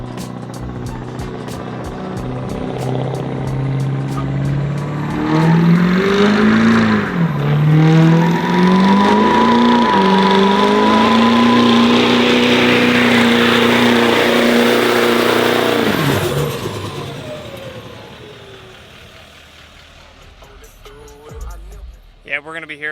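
Chevrolet Duramax L5P diesel pickup fitted with an S467 turbo, built to roughly 1,000 horsepower, revving hard and close: a roaring engine climbs and surges in repeated pulls, holds a loud high rev, then drops away to a quieter idle.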